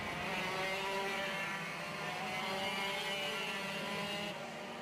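A race car on the Llandow circuit roars loudly and steadily close by, its engine pitch shifting as it passes, then fading slightly at the end; no speech.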